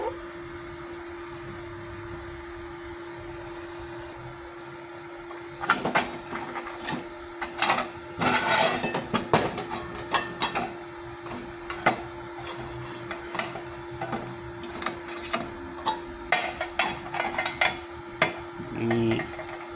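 Gasless MIG welder set to 80 amps joins light steel canopy framing, a crackling, sputtering arc in irregular bursts over a steady electrical hum, close by, after a quiet stretch of machine hum.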